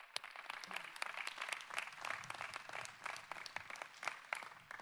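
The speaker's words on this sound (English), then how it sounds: "make a round of applause for yourself" Faint, distant crowd clapping at a UCSD John Muir College ceremony, a soft continuous patter of many hands with no voices.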